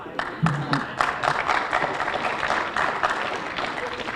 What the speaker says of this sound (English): You can applaud on that.